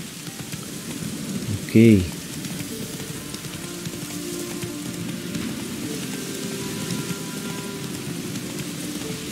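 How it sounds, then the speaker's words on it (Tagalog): Steady rain patters and hisses throughout in the video game The Witcher 3: Wild Hunt, with a brief spoken word near the start and faint sounds mixed underneath. "Umuulan pa."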